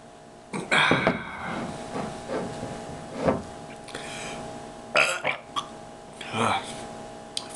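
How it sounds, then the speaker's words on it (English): Several loud, throaty burps follow drinking a 40 oz Pabst Blue Ribbon beer. They come in uneven bursts spaced a second or two apart, with a voice briefly present between them. "Foamy burps."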